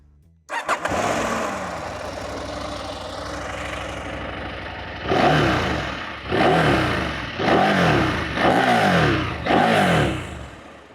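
A KTM 890 Adventure R motorcycle engine fires up and idles with a low, muted burble, then revs five times in a steady rhythm, each rise falling back to idle.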